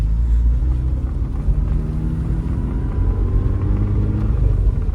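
A warmed-up 1991 Mazda FC RX-7 rotary engine idles at operating temperature, a loud, steady, low rumbling drone close by with no talking.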